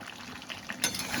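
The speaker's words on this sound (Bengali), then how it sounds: "এভাবে ভালো করে খুন্তি দিয়ে নেড়ে আবার কিছুক্ষণের জন্য কষতে দেবো।" Chicken kasha being stirred with a spatula as it fries in a pan, with a steady low sizzle and a brief scrape near the end.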